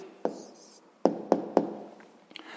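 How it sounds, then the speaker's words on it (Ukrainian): A pen writes an answer on paper at close range, a few sharp taps and short strokes spaced unevenly over a quiet background. "зараз тоді записуємо відповідь, пишемо відповідь"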